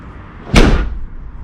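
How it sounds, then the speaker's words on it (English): Rear door of a classic Mini Clubman Estate shutting with a single loud, solid slam up close, followed by a brief rattle from the inner door handle as the sound fades. "The noise you can hear when it's closing is that the inner door handle."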